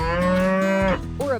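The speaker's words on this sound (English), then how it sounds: "It's a cow!" A single cow gives a loud, close, drawn-out moo, dropping into a lower rumbling tail and a brief rising grunt at the end.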